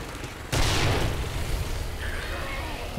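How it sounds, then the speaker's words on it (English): A grenade explodes in the 7 Days to Die video game, a sudden loud blast followed by a long rumbling, crackling tail that slowly fades. "Okay, now let's try a nade too."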